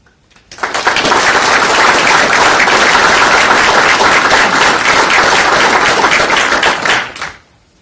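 An audience at a military change of responsibility and retirement ceremony breaks into sustained applause, a dense, even wash of many hands clapping that starts abruptly, holds steady for about six seconds, then fades out quickly.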